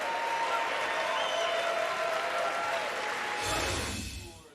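Sustained applause fills a congressional chamber, a dense, steady wash of clapping from a large crowd that carries on evenly and then swells briefly before fading out.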